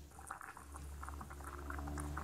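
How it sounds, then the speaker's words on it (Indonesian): Washed mung beans boiling in a pot of water for bubur kacang hijau, a soft steady bubbling with small pops over a low hum, fairly quiet and without talk. "lalu kita rebus sampai mendidih"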